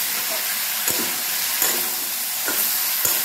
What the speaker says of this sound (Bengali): এইভাবে যদি নাড়াচাড়া করেন তাহলে দেখুন ভাজতে ভাজতেই সবজিগুলো সেদ্ধ হয়ে যাবে